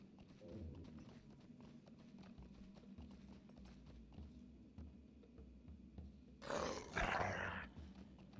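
In the Lord of the Rings Online video game, a ridden horse's hooves clip-clop in a steady quiet rhythm, and a creature's growl or roar swells near the end, with no talking.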